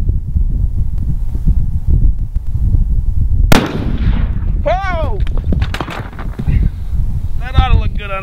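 A single heavy boom from an elephant-gun rifle, compared to a 375 H&H Magnum, cracks out sharply midway, preceded by wind rumble on the microphone and followed by people talking outdoors.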